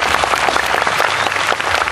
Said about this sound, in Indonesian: Pak Agus, tepuk tangan untuk beliau